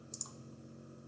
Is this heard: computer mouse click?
yes